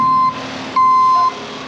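A tow truck reversing, its backup alarm giving two long steady beeps with a short gap between, loud and close with no talk.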